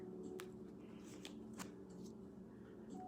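A deck of cards is shuffled nearby, several quick riffling bursts spaced over a few seconds against a quiet room hum.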